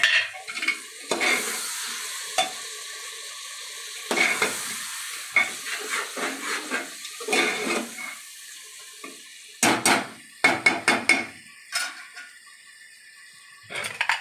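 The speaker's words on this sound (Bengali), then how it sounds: "এবারে যে টমেটো কুচানো দিয়ে দিচ্ছি, 3টে টমেটো দিয়ে দিলাম।" Chopped tomatoes hit spiced masala in a pressure cooker during a mutton curry, bursts of sizzling and crackling come and go with scraping stirs, quieter gaps between them, and no voices.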